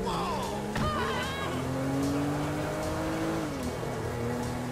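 A car drives in GTA 5 gameplay with a steady engine drone, shifting engine pitch and a brief skid-like squeal, heard at moderate level with no talk over it.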